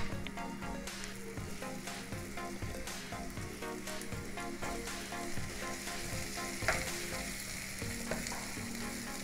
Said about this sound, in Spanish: Vamos a saltear la cebolla con el pimiento sin que llegue a recocinarse